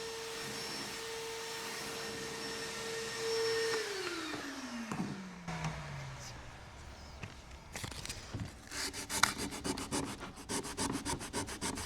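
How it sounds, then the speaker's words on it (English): A thrifted wooden vanity being sanded during furniture refinishing, with a powered sander whining steadily, then dropping in pitch, followed by rough scratchy rubbing and rapid rhythmic tapping close by. "guaranteed not my most favorite part of this job is sanding"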